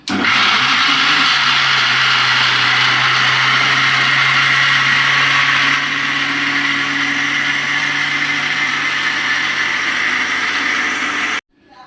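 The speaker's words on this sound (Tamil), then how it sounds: "மிக்ஸ் பண்ணி வச்சிருக்கிறத கிரைண்ட் பண்ணி எடுத்துக்கலாம்." A kitchen mixer grinder whirs loud and steady as it grinds a jackfruit ice cream mixture into paste, a continuous motor drone with a whining hum that stops abruptly at the end.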